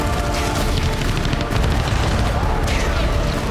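War footage of a bomb strike destroying a building in Ukraine, heard as a dense, continuous roar of gunfire and explosive blasts with broadband crackle throughout, loud and sustained with no clear pauses.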